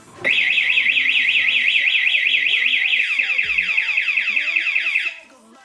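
A loud Shodai vehicle anti-theft alarm siren wails in rapid warbling sweeps, then slows into repeated descending whoops before cutting off abruptly near the end.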